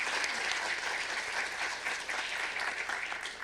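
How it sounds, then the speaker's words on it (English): Dense, steady applause from a panel audience, sustained and fairly even throughout with no voices over it. "Please give them another round of applause"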